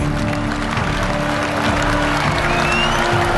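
A jubilant crowd outside the White House cheers and applauds in a continuous loud roar, steady from start to finish.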